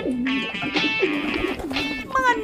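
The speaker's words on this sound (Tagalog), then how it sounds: "Mga nasa 200 homing pigeons o kalapati" Homing pigeons on the rooftop of a three-story house cooing in soft, repeated low throaty calls, close by and overlapping, with faint background murmur.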